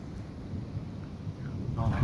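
Thunder from a minor August thunderstorm over Red Deer, Alberta, rolls as a low, steady distant rumble with wind noise. A voice cuts in at the very end.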